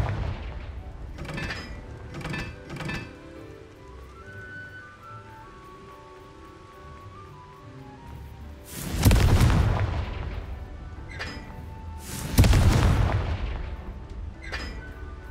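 Two fiery Confringo spell blasts go off in Hogwarts Legacy, each a loud booming burst with a rumbling tail, spaced a few seconds apart after quieter clicks and ambient game music.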